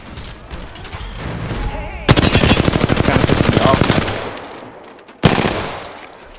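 Rapid automatic gunfire bursts from the Apex Legends video game, played on Xbox One, loud and close, with a long sustained burst followed by a sharp second burst after a pause.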